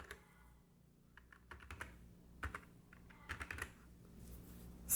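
Typing on a computer keyboard close by in a quiet room, with irregular bursts of soft key clicks, short runs of taps and pauses between them, ending in a slightly louder thump.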